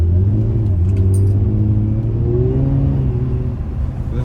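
An Infiniti G35 coupe with a VQ35DE engine and six-speed manual revs hard in snow, a loud, sustained close engine drone rising in pitch as the tyres fight for traction.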